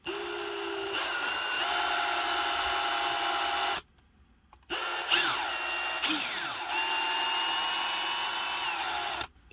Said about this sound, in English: But I'm just going to drill it out here.